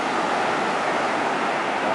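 Ocean waves wash steadily onto a sandy beach, a continuous broadband surf roar mixed with wind buffeting the microphone and no pauses throughout.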